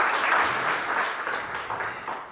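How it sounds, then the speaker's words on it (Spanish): An audience at a lecture on magic history applauds, a steady wash of clapping from a seated crowd that swells early and slowly fades over a couple of seconds, with no voices over it. "darle un fuerte aplauso"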